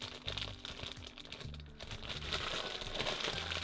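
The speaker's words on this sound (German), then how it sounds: "werde ich hier die Tüten schnell wieder verschließen" Plastic bags crinkle and rustle up close as they are closed and wrapped, a continuous soft crumpling with small crackles, fairly quiet with no talk.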